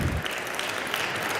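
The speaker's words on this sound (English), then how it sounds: "the team deserves the applause" Applause for a Long Island University soccer team that went undefeated in the regular season, filling the room as steady crowd clapping that fades a little after the opening moment, with no talk over it.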